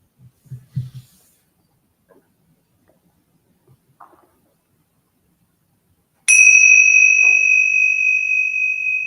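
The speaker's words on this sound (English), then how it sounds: "And in a moment, I'll ring the Tingshar bells." Tingsha bells struck once after a few faint soft sounds, giving a sharp bright ding that rings on as a sustained clear tone, loud and alone.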